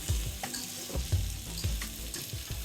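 Potatoes fry in a pan with a steady, close sizzle, while rhythmic scraping strokes from stirring recur about every half second, with no talking.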